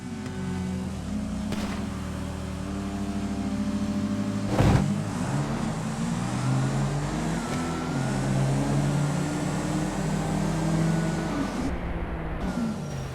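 Street race cars in GTA V rev and launch, with a sharp burst midway followed by sustained, rising engine drone that stays loud and steady to the end.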